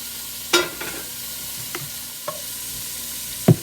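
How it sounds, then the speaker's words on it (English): Steady sizzling of bacon and beef frying in a pan for beef stew, with a few sharp clinks and stirring taps scattered over the hiss; no talking. "now we're getting some good sizzle in here"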